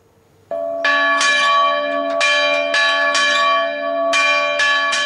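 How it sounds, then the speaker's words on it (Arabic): Church bells ring loudly with repeated resonant strikes, overlapping tones sustaining and decaying between hits, with no talk over them. "وهل تقرع أجراس الكنائس هناك؟"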